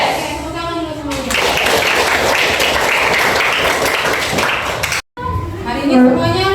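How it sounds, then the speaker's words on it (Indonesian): A classroom group bursts into lively clapping for several seconds, bracketed by a voice speaking before and after. "Tepuk tangan dulu semuanya"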